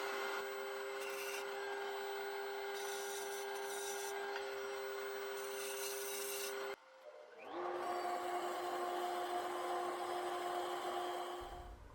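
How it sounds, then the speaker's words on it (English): Sanding a wooden cigar ashtray to strip paint produces a steady, fairly faint rasping buzz that cuts out briefly, then resumes with a slightly different pitch. "I decided I was gonna sand the whole thing and peel everything back again"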